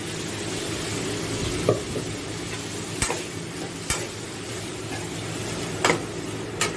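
Ground paste for a mocha kottai (field bean) gravy is stirred into a sizzling pan, with a steady fry hiss and a few sharp scrapes of the spoon against the pan at scattered moments, no voices.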